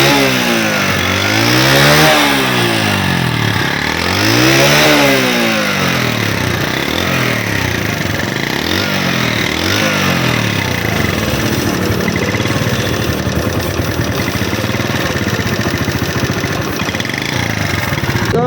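An old motorcycle engine, repaired after its cylinder head was refitted, runs steadily up close, with two or three rising-and-falling revs early on before it settles into an even, loud idle.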